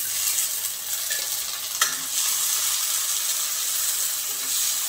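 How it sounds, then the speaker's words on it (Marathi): Chopped onion and finely cut tomato stir-fry in a pan over low heat, a steady hiss of sizzling with a sharp utensil knock and brief scraping, close and fairly loud, without speech. "तर इथे कांदा परतला केला की त्याच्यामध्ये बारीक कट केलेला टोमॅटो घालायचं"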